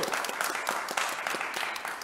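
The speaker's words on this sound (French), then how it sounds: "Nous ne le sommes pas, mais nous applaudissons quand même." A small group applauds at a 2020 festival event, giving a brief, steady burst of clapping from a few people for about two seconds.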